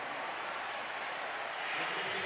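Stadium crowd at an NFL game between the Giants and Broncos reacts to a short field goal with a mocking Bronx cheer, a broad sustained wash of crowd noise swelling slightly toward the end.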